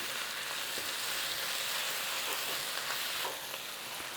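Bacon and onions sizzle and fry in a pan for a German onion tart, a steady close hiss with faint crackles and occasional small pops throughout, no talking.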